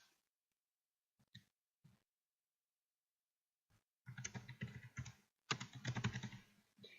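Typing on a computer keyboard, a few isolated clicks followed by a quick burst of close, rapid keystrokes.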